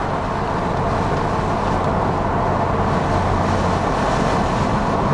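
Nissan Skyline GTR R33 LM edition on new wheels and tires, cruising with a steady, smooth engine drone and broadband road rumble close up, constant throughout with no talk.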